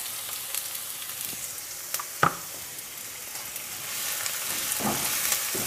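Finely chopped medium onion sizzling in cooking oil, a steady soft frying hiss with a few sharp crackles and a brief spatter near the middle.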